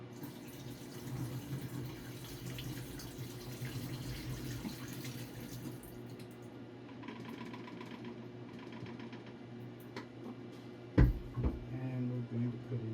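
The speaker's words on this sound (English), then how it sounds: "Pour out the wash water." Wash water from Arista E-6 film processing is poured out into a sink, making a steady running splash with a low hum beneath, followed by a sharp clunk and brief rattle near the end.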